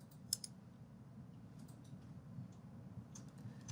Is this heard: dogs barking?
no